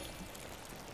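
Watering coffee bean plants in the Spiritfarer video game: a soft, steady pour of water running through the whole moment, fairly quiet and uniform with no voices over it.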